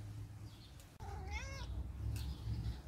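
A house cat gives one clear, drawn-out meow with rising and falling pitch, close and moderately loud over a low background hum outdoors, followed by a fainter second call.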